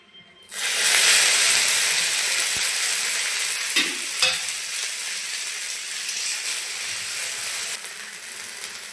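Okra sizzles and hisses steadily as it is stir-fried in a pan of oil with dried red chillies, the frying starting abruptly and holding loud and close, with occasional scrapes and clicks of a spatula.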